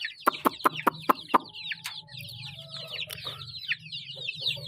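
Bantam chickens and chicks clucking nearby, starting with a rapid series of sharp, loud clucks followed by softer chattering, peeping calls and continuous low murmuring from the flock.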